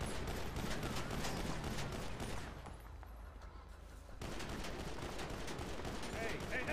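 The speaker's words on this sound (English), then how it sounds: "Stop shooting!" Rapid bursts of gunfire in a GTA V NoPixel roleplay game, loud, dense volleys that briefly drop away before resuming, with voices nearby.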